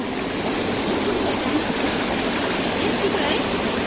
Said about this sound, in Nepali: यो कुलो चाहिँ खोलामा गइरहेको छ